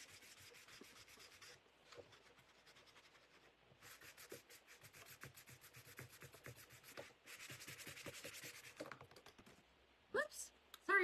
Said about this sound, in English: I'm going to go ahead and sand my edges of this.